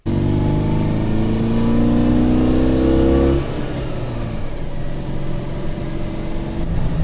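A restored Citroen Dyane driving off, its small engine revving loudly up close for about three seconds before settling into a quieter, receding running hum.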